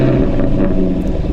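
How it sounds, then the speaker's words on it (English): A Jaguar F-Type R convertible with its loud exhaust mode engaged fires up, giving a close, heavy low rumble that stays dense and strong throughout the short burst, with no talking. "Now, turn on the loud exhaust. Now, press the brake and hit the start stop button."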